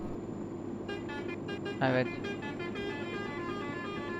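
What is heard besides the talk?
Mercedes Axor truck horn in video game Euro Truck Simulator 2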